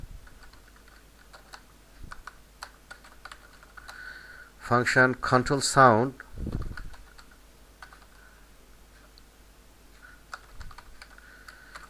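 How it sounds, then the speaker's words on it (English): Keys clatter on a computer keyboard in light, steady bursts of typing, close to the microphone, with someone speaking briefly in the middle. "And now here I'll type the function"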